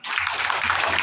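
Audience at a community gathering clapping to welcome a guest, a short burst of dense applause starting abruptly and holding steady, with a low hum underneath.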